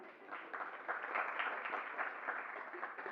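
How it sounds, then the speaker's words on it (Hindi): Audience applause at a Jain religious discourse, steady dense clapping from a crowd sustained evenly throughout without pauses. "एक बार इनके लिए तालियां बजाइए ना"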